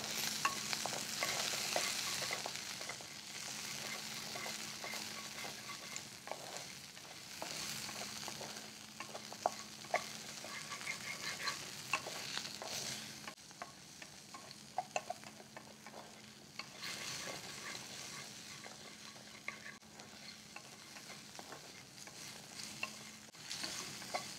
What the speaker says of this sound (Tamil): உப்பு சேர்த்த உடனே சின்ன வெங்காயம் சீக்கிரமாக வதங்கிடும்